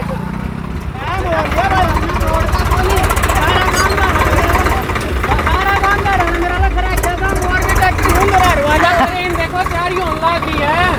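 A modified Swaraj tractor engine runs loud and close at a tractor tug-of-war event, a steady throbbing drone with wavering pitch that holds throughout, while voices from the crowd talk over it.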